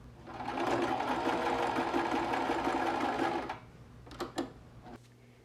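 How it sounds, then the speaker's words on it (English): A sewing machine runs steadily, stitching the cotton and knit fabric pieces of a scrunchie along a seam line, then stops and leaves a few brief clicks and handling noises. "you're going to sew along that line, leaving a good amount of seam allowance"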